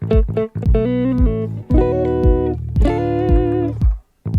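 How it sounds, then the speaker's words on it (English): Electric guitar notes and chords with pitch wobbling and bending from a whammy bar, several phrases with brief gaps, loud and close, no talking. "Now with your whammy bar, you can sound like this."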